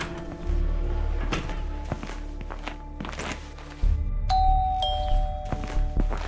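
A two-tone doorbell chimes at a house's front door in a video game after a run of footsteps, a clear ding-dong over soft background game sound.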